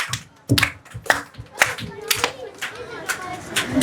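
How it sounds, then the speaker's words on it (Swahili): Clapping for teachers at a small children's graduation ceremony, scattered sharp hand claps rising and falling irregularly, with voices and crowd chatter running beneath. "tuwashukuruni walimu wetu kwa kazi wanayoifanya, tuwapigieni makofi"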